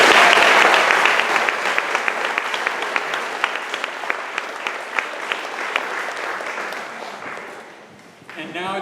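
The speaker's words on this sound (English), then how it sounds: "Please give her a hand." Audience applause at a jazz tribute evening in White Center, dense sustained clapping from a room full of people that tapers off toward the end, followed by a brief voice.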